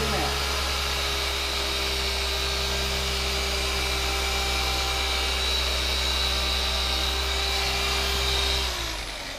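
A dual action car polisher runs on car paint with a loud, steady whirring drone and a constant hum, then winds down and fades in the final moment.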